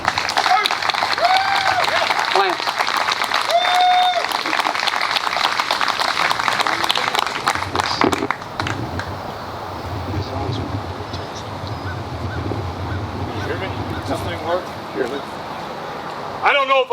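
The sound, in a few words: audience applause for a veteran speaker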